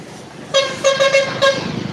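Vehicle horns honking on a busy road: a burst of several short, bright toots in quick succession over a low background hum of moving traffic.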